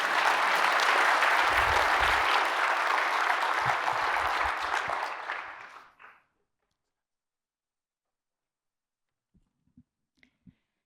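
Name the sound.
audience applause for Professor Dave MacMillan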